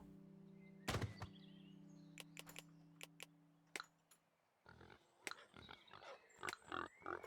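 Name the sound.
pig oinking in a farming video game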